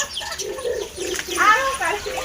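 Soft, low cooing from pigeons or doves close by, repeated in short phrases, with brighter chirps and twittering layered on top.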